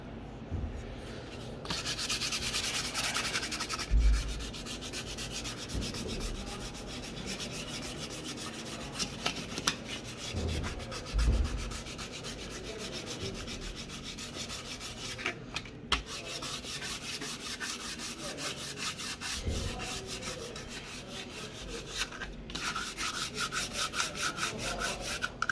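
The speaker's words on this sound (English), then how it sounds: "finer sandpaper. It's gonna be harder" Fine sandpaper rubbed by hand across the face of an aftermarket wheel for an MK2 Jetta, a continuous soft, gritty scratching in close back-and-forth strokes with a few brief pauses.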